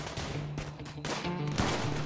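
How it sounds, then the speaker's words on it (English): Bursts of rapid gunfire crackle in quick succession in the video game Rimworld, dense and continuous over a steady low hum, like a video game firefight. "but there was too much gunfire"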